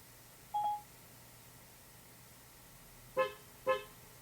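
Two short, sharp Tesla Model S horn honks in quick succession, loud against a quiet background, preceded by a brief electronic beep.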